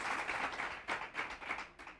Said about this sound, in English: let's give them both applause for doing that too